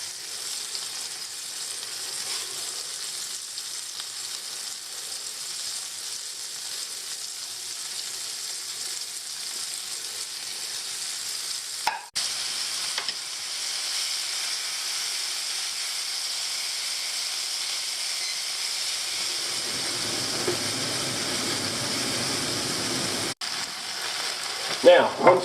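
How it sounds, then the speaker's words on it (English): Floured green ormer abalone frying in a pan, a steady broadband sizzle holding for most of the stretch, with brief interruptions and a lower, louder crackle building near the end; faint speech may be present. "you can just cook Ormers like this with flour and fry them"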